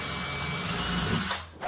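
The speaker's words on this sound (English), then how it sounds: "pre-drill" A power drill pre-drills screw holes in wood while a custom storage unit is built, giving a steady close whir for about a second and a half before cutting off abruptly.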